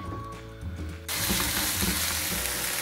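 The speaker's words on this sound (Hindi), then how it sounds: "बस अब ये फ्राई होंगे, फिर ये 5 मिनट तक हम इनको फ्राई करेंगे" Sliced onions frying in hot oil in a pan, a soft sizzle at first that jumps to a loud, dense, steady crackle partway through, close and continuous, with no voices.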